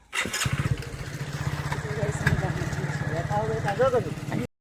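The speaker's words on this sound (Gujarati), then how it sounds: "કિશન પપ્પા તો બાઇક પર બેસી ગયા." A motorcycle engine sputters to life and putters in a rapid, steady rhythm close by, with voices talking over it.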